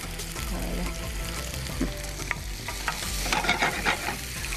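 Food sizzles and fries in a pan while a wooden spoon stirs it, giving a steady close sizzle with scraping and clacking strokes that grow busier toward the end.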